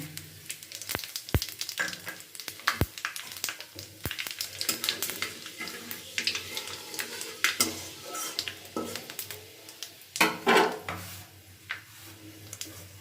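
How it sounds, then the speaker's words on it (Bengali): A bay leaf, a dried red chilli and Bengali five-spice seeds crackle and sizzle in hot oil in a kadai, with sharp pops early, utensil clinks and stirring, close up and without speech. "এবারে কড়াইতে আমি ফোড়নে দিয়ে দিচ্ছি একটা তেজপাতা একটা শুকনো লঙ্কা আর একটু পাঁচ ফোড়ন"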